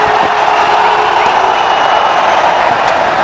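Cricket crowd at an India versus South Africa Test match, a broad steady roar of cheering and applause that holds at a loud, even level throughout, with no clear breaks.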